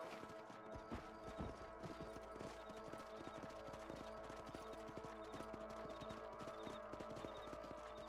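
Horse hooves clip-clopping at a steady trot in Red Dead Redemption on Xbox 360, a continuous rhythmic patter over a constant low ambient drone, with no talking.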